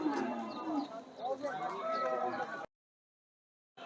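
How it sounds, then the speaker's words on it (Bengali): Cattle low and moo amid a busy Shajanpur cattle market in Bangladesh, with crowd voices talking close by, before the sound cuts out abruptly into silence. "এই যে সুন্দর একটা গরু নিয়ে আসা হচ্ছে"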